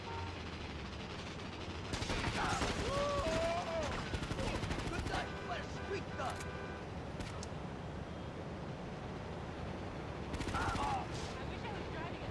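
Pistol gunfire in the video game GTA Liberty City Stories, bursts of rapid shots mixed with game engine and street noise, with a voice talking intermittently over it.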